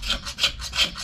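A knife spine scrapes shavings off a rod in a camping bushcraft setting: four or five quick rasping strokes in a brisk back-and-forth rhythm, close and crisp, with no talk.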